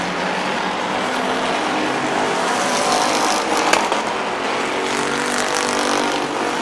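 Race cars roar around the oval at Midvale Speedway in a dense, continuous wash of engine noise, with one car passing louder near the middle, no voices heard over the racket.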